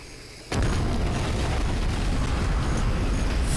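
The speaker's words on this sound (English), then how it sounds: "There was a blinding flash of light and the deep thunderous roar of an explosion." Deep, thunderous explosion in the Danganronpa video game: a sudden loud boom bursts in after a brief quiet start and roars on as a sustained, dense rumble filling the rest of the moment.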